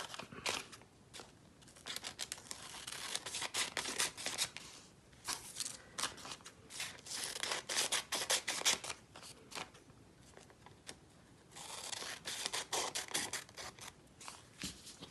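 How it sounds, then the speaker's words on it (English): Scissors snip repeatedly through paper while pattern pieces are cut out for a half-scale dress form, the blades closing in quick irregular bursts of crisp crunching cuts, close and fairly quiet, with no voices. "And then I just go in and cut those pieces out."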